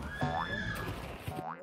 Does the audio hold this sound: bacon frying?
no